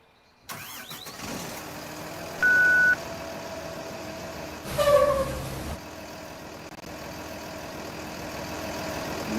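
A school bus engine turns over and settles into a steady idle, with a single loud, flat alarm beep sounding about halfway through before a clunk as it goes quiet.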